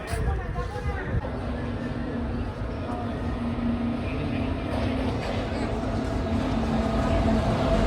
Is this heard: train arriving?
yes